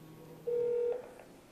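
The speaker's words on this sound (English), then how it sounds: "you'll see the inbound call respond on the screen." An iPhone signals an incoming call with a short electronic tone that holds for about half a second, followed by a few faint blips, heard alone at modest volume.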